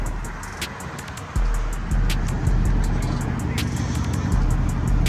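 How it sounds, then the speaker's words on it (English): A 2019 Jeep SRT drives along with a loud steady engine and road rumble from inside the cabin, the drone swelling as it pulls away, with faint ticking on top. "here we go, my 2019 SRT Jeep"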